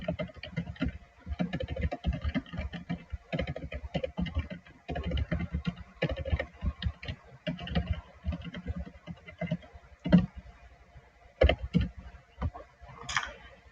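Someone types a short note on a computer keyboard, the key clicks coming in quick, irregular bursts with brief pauses, close and fairly clear, with no speech over them.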